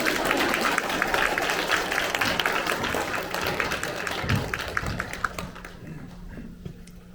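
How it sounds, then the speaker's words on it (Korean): A church congregation at a Friday praise service applauds steadily, a dense wash of many hands clapping that gradually thins and fades toward the end. "나올 때까지 박수 치고요"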